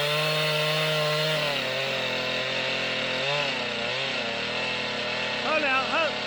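Chainsaw cutting into a hollow tree in a forest, loud and close, the engine droning steadily with pitch dips and revving as the chain bites, with a person talking briefly under the noise.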